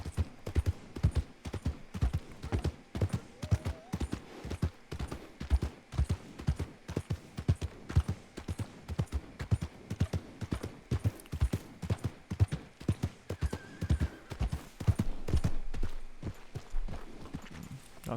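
Rhythmic clip-clop of horse hooves at a steady walking pace in a video game, clear and continuous, with faint ambient background.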